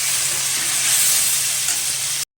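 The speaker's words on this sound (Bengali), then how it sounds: "আলুটা ভাজা হোক।" Potatoes salted and dusted with turmeric fry in a pan with a steady, loud, close sizzle, the hiss continuing evenly before cutting off abruptly.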